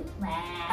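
A person imitates a goat with one short, wavering bleat, a quick voiced mimicry made during a rapid animal-sounds party challenge.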